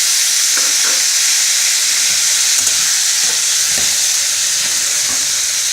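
Tomatoes fry in a pan with green chilies for a breakfast tomato chutney. A loud, constant hissing sizzle fills the whole stretch, with soft, irregular stirring scrapes underneath.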